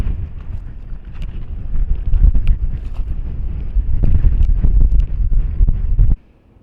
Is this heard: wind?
yes